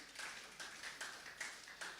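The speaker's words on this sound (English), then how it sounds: "I think the commissioner deserves a better round of applause" Scattered applause from a summit audience for the commissioner, a handful of faint, distant claps with uneven rhythm and no talk over it.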